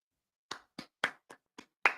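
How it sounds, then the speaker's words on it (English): Six distinct hand claps ring out one by one in a sparse, uneven rhythm, close and clear against silence, a small solo round of applause. "Round of applause for Howie."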